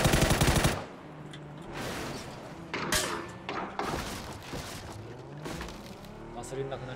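Gunfire in the battle game PUBG: a fast burst of automatic fire opens loud and close, followed by scattered single shots and distant volleys, with a player's voice talking over parts.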